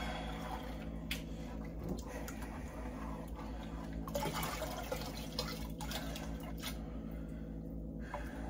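Liquid poured into a sweet feed mash in an apartment, a soft continuous watery trickle and splashing running steadily throughout at moderate level.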